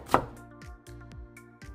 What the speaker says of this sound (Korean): 당근 4분의 1개를 얇게 채 썰어주세요.